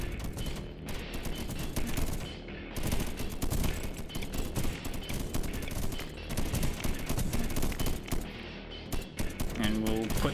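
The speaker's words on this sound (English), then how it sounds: "Let's put some cannon turrets up, because I don't know how good they are, but they're cannons." Cannon turrets firing in the video game Deep Among the Swarm, a dense, continuous barrage of rapid booming shots with crackling impacts, loud and unbroken for about ten seconds.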